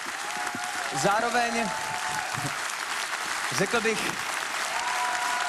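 A studio audience at the Let's Dance TV dance show claps in sustained, dense applause throughout, while someone talks over it.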